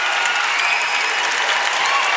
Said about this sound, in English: supporting cast standing and cheering their team as well they should